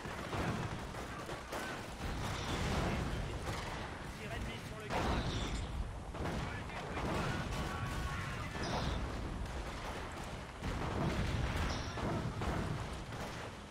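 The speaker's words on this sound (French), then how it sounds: "Allez, on tire à plein régime." Gunfire and artillery in the World War II strategy game Company of Heroes: dense battle noise with scattered booms and shots rolling on throughout, under steady conversation from players talking over it.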